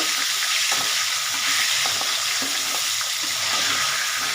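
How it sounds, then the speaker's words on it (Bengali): Tilapia fish heads fry in hot oil, a dense, loud, continuous crackling sizzle with faint stirring knocks beneath, heard up close and without any voices. "পুরো মাথাগুলো ভাজা হয়ে গেল"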